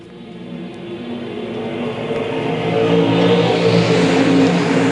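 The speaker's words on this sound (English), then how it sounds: "Stock cars coming green in Kansas City" Stock cars on a Kansas City track roaring away at the green-flag start of the A-main, a loud engine rumble that builds steadily as the field accelerates.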